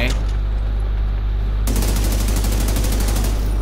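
Rapid gunfire in The Division 2 kicks in as a dense, steady automatic burst, loud and close, over a constant low hum of background noise.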